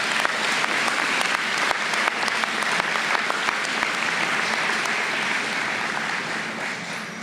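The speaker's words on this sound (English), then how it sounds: "So graduates, please give your family and your loved ones a round of applause." Graduating high school seniors at a 2019 ceremony give their families a round of applause, a loud, steady crowd clapping that fills the hall and holds throughout before easing slightly at the end.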